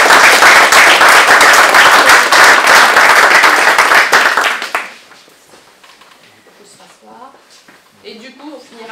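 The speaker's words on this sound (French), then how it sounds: "On peut les applaudir." An audience at a knife-making event breaks into loud, dense applause for several seconds, then it cuts off abruptly and a voice begins speaking quietly afterward.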